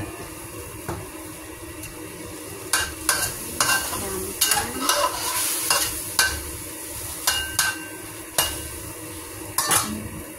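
Chicken in oyster sauce cooking in a pan, a steady sizzle broken by repeated sharp clanks and scrapes of a utensil against the pan and lid.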